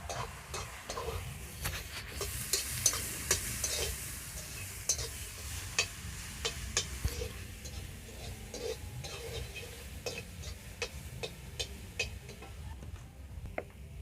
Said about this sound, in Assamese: আৰু ধুনীয়াকৈ মিক্স কৰি ভাজি ল'ম।